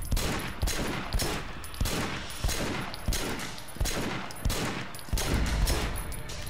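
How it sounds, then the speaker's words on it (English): Gunfire in the open-world game Sleeping Dogs, with loud shots fired in a steady, repeated rhythm about twice a second over a constant background of action noise. "let's just go in guns blazing"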